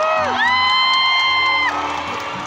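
Concert crowd at a live band show at Podomoro DeliPark, Medan, letting out loud, sustained high-pitched whoops and screams over a dense wash of cheering, close and continuous throughout, easing slightly near the end.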